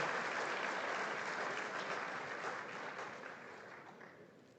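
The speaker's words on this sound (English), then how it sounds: "Can we give Beth another round of applause?" Applause rises from a conference audience after a national anthem performance at an oil and gas conference in Namibia, steady clapping that fades gradually toward the end, with no voices over it.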